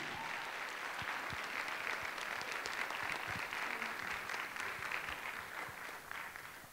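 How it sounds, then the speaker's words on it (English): Sustained audience applause fills a town hall meeting, a dense steady patter of many hands clapping at full strength before tapering slightly at the end. "Give him one more round of applause, please."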